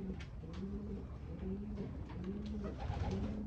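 A racing pigeon of the Black Power line coos in a repeated low rhythmic pattern, several soft close calls in sequence with faint background noise.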